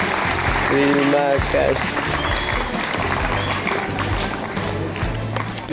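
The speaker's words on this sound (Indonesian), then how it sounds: "Sekali lagi tepuk tangan semuanya." Audience applause at a school project exhibition at a junior high in Klaten, Central Java, loud and steady throughout, with a voice speaking over the clapping and a few brief tonal sounds early on.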